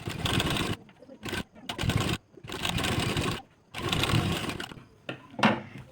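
An electric sewing machine stitches dark velvet fabric for a princess-cut blouse in repeated bursts of rapid mechanical whirring, separated by short pauses, close and fairly loud with no talking.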